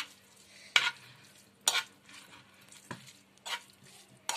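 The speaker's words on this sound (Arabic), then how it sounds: "دابا غنبدا نقلب هكا" Red pasta sauce stirred in a pan, with five or six distinct scraping knocks of a utensil spaced about a second apart over a faint simmer, close and unaccompanied by speech.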